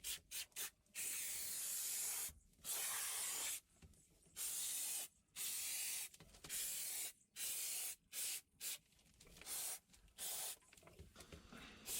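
Spray foam insulation being sprayed inside a van during the build, loud hissing bursts of a few seconds each, repeated with short pauses between them.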